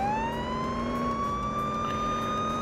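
A police car siren from the Police Simulator: Patrol Officers video game wails steadily and continuously at moderate loudness, its tone slowly gliding upward with no talk over it.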